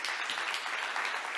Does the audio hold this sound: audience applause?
yes